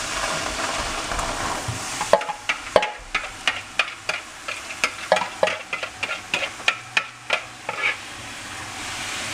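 A hiss of sauce frying for two seconds in a pan without oil for Spanish rice and beans, then repeated sharp scraping strikes of a utensil against the pan over a quieter sizzle, steady and close.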